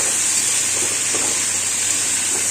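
Chicken pieces frying in a pan for chicken kosha, giving a loud, steady, close sizzling hiss that continues without a break and with no voices.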